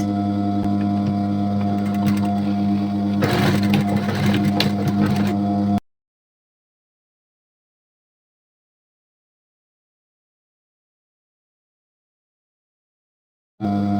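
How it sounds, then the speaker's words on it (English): A sewing machine stitches skirt fabric with waist elastic: a steady, close mechanical whir with a louder burst of rattling, then it stops for a long silent stretch before starting up again briefly. "So as you are sewing it, hope you are seeing it, you'll be stretching it along with your waist."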